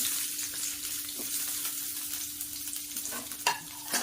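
Onions frying in hot coconut oil for onion chutney, a bright, steady sizzle with occasional spatula scrapes and a couple of louder clinks near the end, close up with no voices.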